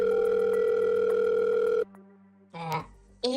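A telephone dial tone hums steadily while a call is placed, then cuts off, followed by a short pause and a few brief electronic tones, all close and clear.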